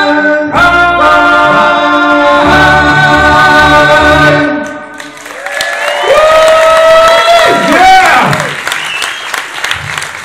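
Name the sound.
crowd cheering and applauding at live show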